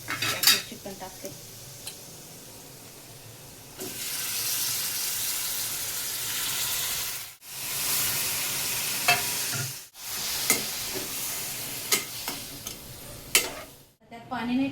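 Chicken pieces sizzle and fry in a pan with browned onion, turmeric and red chili powder, with a steady hiss broken by repeated clinks and scrapes of a spoon stirring against the metal pan.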